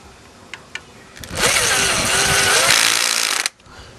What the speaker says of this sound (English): I'm going to use the electrical screwdriver to put on the screws